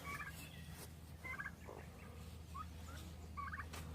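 Farm turkeys near some chickens gobble in short rippling bursts several times over a faint outdoor background, fairly distant and quiet.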